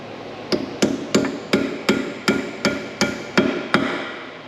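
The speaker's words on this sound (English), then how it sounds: "Just go ahead and take our hammer here." A hammer strikes sharply about a dozen times in a steady rhythm, each blow a crisp, ringing knock up close, during a Brembo brake replacement on a Dodge Charger SRT8.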